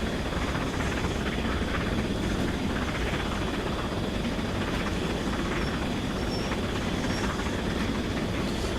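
Steam train from a train simulator game running on a Great Western main line, a loud, continuous rumbling roar with a dense low chug and rail noise throughout, no voices.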